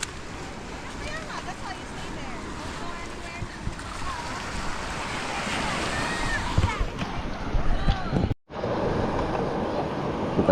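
Sea waves and gusting wind at Bolinao beach beside a motorboat, a steady rough wash of surf and wind noise throughout, with a brief dropout near the end and voices faintly mixed in.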